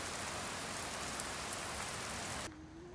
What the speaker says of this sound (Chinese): 早晨下起了大雨